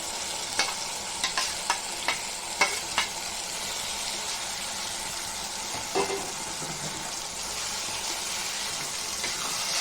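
Boiled prawns go into a pan of gongura curry, setting off a strong sizzle; several sharp clinks of a spoon against the pan come early, then a steady bubbling fry continues close by.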